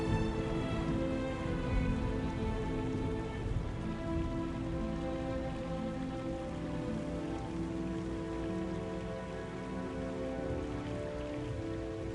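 Steady rain falls across the scene in the Harry Potter and the Chamber of Secrets video game, a continuous dense hiss of drops on surfaces under a sustained tonal music bed, unbroken for the whole stretch.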